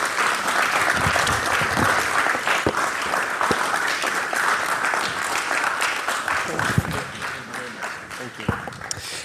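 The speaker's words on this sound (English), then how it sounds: "Please, another round of applause." An audience at a Ghana leadership event gives sustained applause, a thick continuous roar of clapping with a few sharper claps standing out, slowly easing toward the end.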